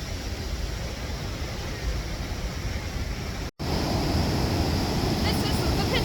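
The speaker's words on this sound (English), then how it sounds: "Do you hear this roaring sound? This is the waterfall." Storforsen waterfall on the Piteälven river roars as a broad, steady rush of water close by, loud and unbroken apart from a momentary cut.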